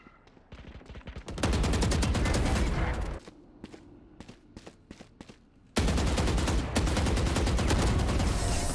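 Rapid gunfire from the tactical shooter game Valorant, loud and close, with dense sustained bursts of shots, a short lull of scattered single shots, then another heavy volley.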